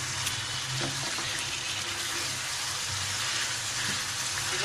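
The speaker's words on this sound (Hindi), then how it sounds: "अब हमें इसे थोड़ी सी भुनाई करनी है, थोड़ा सा जो पानी है वो खुशक हो जाए।" Chicken karahi sizzles and fries in a pan as its liquid cooks down, a steady close crackling hiss with no voices over it.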